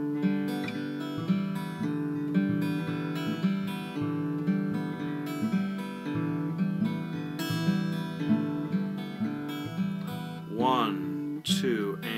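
Guitar exercise played at a slightly faster tempo, a steady stream of plucked notes over a repeating low bass line, continuous and close, with a brief pitch-bending flourish near the end.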